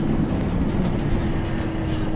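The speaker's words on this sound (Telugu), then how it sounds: "ఇంజన్ సౌండ్ మారిందా గైస్?" A bus engine in the game Bus Simulator Indonesia drones steadily at low pitch, an even, continuous rumble with no talk over it.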